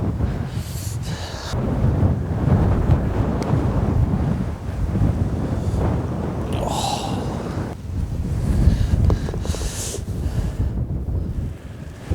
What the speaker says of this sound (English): That wind has picked up and it's a trifle cold.